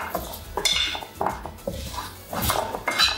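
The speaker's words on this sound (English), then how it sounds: "give everything a really, really good stir" Potatoes are stirred with cornflour in a bowl for crunchy baked chips, producing irregular close clinks and scrapes of a utensil against the bowl with soft rustling between strokes, and no talking.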